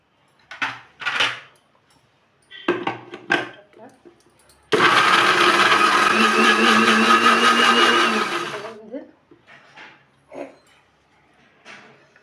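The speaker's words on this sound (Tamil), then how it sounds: "இது எல்லாமே போட்டு நல்லா நைஸாக பேஸ்ட்டாக அரைச்சி எடுத்துக்கிறோம்" A mixer grinder whirs loudly for about four seconds, grinding garlic, chili, fennel, salt, oil and rock salt into a paste for fried shankara fish, bracketed by shorter clatters and speech.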